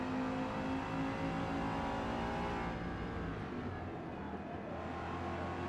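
A Ford GT race car in Forza Motorsport accelerates out of a corner, a steady, fairly faint engine drone that climbs in pitch and then eases, with no voices.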